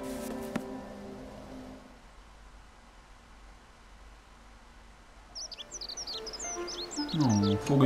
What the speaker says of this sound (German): Vogelgezwitscher.